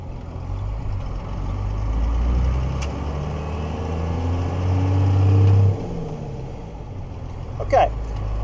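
A first-generation Cummins 12-valve diesel pickup with a five-speed manual rumbles low and steady while pulling onto the road, its engine swelling under load, then easing off as a short higher whine cuts in near the end.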